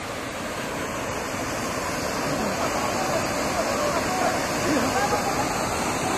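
Bunga Falls, a twin waterfall in Nagcarlan, Laguna, with its two matching streams of water falling onto rock, roars loud and steady throughout without a break, with faint voices mixed into the rush.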